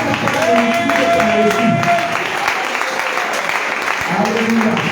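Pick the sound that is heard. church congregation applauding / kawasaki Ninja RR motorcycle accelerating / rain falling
church congregation applauding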